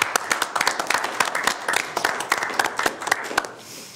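Applause at a district sanitation board meeting for a retiring staff member: a small group of people claps in a fairly sparse, uneven patter that stays steady and close for several seconds, then thins out near the end.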